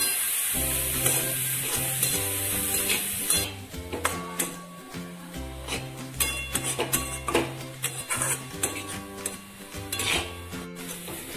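Vegetable momo filling with turmeric and salt stirred in a pan, repeated scraping and clinking of a utensil against metal over a light sizzle, with music playing in the background.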